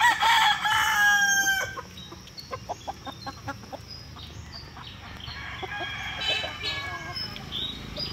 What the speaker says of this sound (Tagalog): Kumakain agad itong mga manok natin.